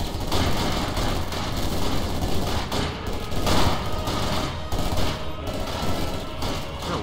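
Gunfire and cannon blasts from the World War II strategy game Company of Heroes 2, a dense continuous barrage of shots and booms with several louder impacts, sustained and close throughout.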